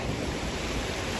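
Steady sea surf rolling onto a beach in Turkey, a constant broadband wash of waves with some wind noise on the microphone, close and continuous with no voices.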